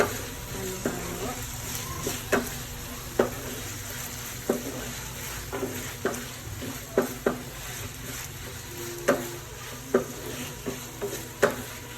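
Sweet and sour pork meatballs being stirred in a sizzling pan, with a steady frying hiss under repeated spoon scrapes and knocks against the pan at an irregular pace, close and moderately loud.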